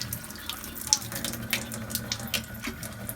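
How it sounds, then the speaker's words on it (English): Water streams steadily from a K8 alkaline water machine set to pH 9.5, with two outlets running at once, a continuous splashing hiss close by with faint background noise throughout. "You have 2 streams of water."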